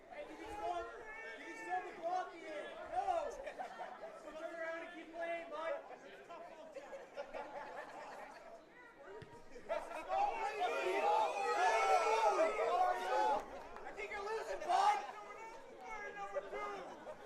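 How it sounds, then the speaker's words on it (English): Home fans at a men's club rugby championship match jeering and shouting at visiting NYAC players, a dense crowd babble of many voices with rising yells and a louder burst of jeers midway. "Some of the Nyack players getting heckled by the home fans here."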